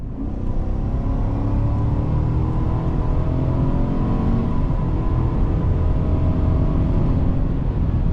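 A 2025 Chevy Silverado 1500 LT pickup accelerating hard, a steady loud engine roar with rising tones building throughout, heard from inside the cab with no talking.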